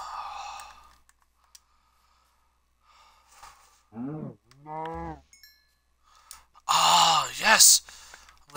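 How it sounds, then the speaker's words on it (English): Cows moo in the Minecraft video game: a couple of drawn-out, low synthetic lows in the middle, with a person's voice talking before and after them. "Cow."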